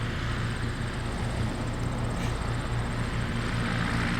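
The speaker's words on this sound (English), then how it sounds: "and I saw the plane." An airplane flying over a beach in Leland, a steady loud engine drone with a low hum that holds throughout, with no voices.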